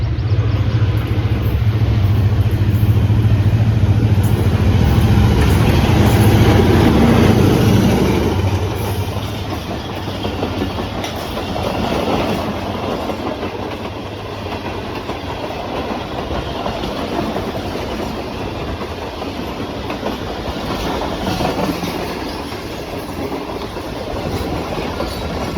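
Pak Business Express passenger train led by locomotive ZCU 30 63 runs at speed on the Karachi main line. A loud, close rumble of the passing train gives way to a steady, rattling clatter of carriages on the rails.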